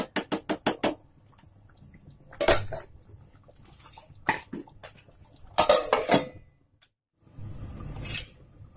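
A metal lid clanks onto a pot of chicken curry, with a burst of sharp rattles at the start followed by several more clatters and knocks of pot and lid, close and loud, separated by quiet stretches.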